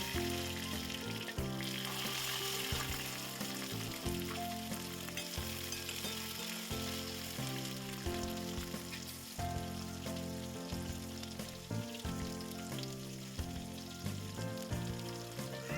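Onions sizzle and crackle steadily as they sauté in hot oil for sambar, close by, with background music playing throughout and no talking.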